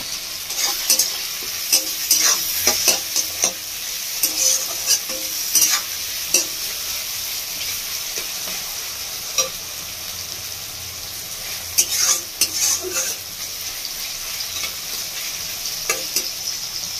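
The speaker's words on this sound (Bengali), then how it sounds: "টমেটোগুলো ভালো করে ভেজে নেবো।" Tomatoes with onions and salt fry in a pan, making a constant sizzle broken by frequent scraping and clattering stirs, some in quick bursts, close and fairly loud.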